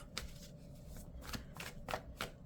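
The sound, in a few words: cards being shuffled and drawn from chakra card deck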